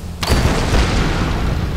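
A loud natural gas explosion in the video game Tomb Raider, one sudden deep boom after a brief quiet moment, then a heavy rumbling roar that holds for over a second.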